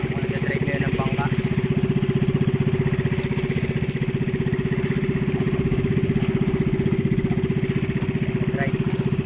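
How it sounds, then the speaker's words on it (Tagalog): Steady low engine drone with a fast, even chug runs throughout, loud and close, from an outboard motorboat engine on a fishing boat, with faint voices in the background. "Ako nag-drive ngayon ng bangka."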